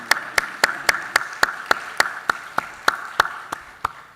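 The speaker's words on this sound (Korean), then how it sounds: "우리 뜨겁게 박수로 한번 환영하고 축하하겠습니다" A church congregation welcomes the pastor's wife with rhythmic, evenly spaced clapping of about fifteen crisp claps, steady and fairly close, sounding like a small group clapping in unison.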